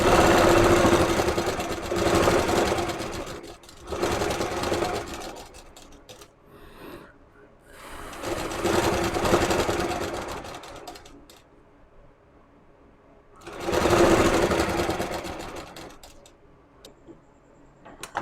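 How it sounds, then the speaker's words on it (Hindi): A sewing machine stitches a net kurti in three loud bursts of rapid, close mechanical whirring and ticking, separated by quieter pauses. "यहाँ पर सिलाई लगा लीजिए। इस प्रकार से चलाइए सिलाई।"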